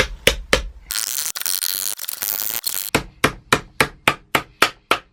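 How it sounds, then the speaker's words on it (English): A hammer bends over the ends of a metal plate under a van: a few heavy blows, then a loud grinding, rattling stretch, followed by a steady run of about nine sharp, evenly spaced metallic strikes close by. "so there's a plate on the bottom, so now I can just fold the ends over"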